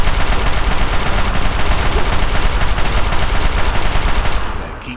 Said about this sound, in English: keep shooting until they're dead